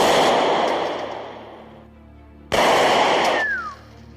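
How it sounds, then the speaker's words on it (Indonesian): Sniper rifle gunshots in a film, two heavy booming reports with long rolling decay, the second striking abruptly midway and followed by a brief falling whine. "Si bos kemudian menguji kemampuan Ivan dalam menembak jarak jauh"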